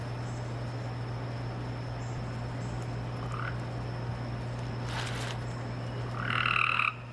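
A loud frog croaks steadily nearby over a constant hum, with a brief burst of louder croaking near the end.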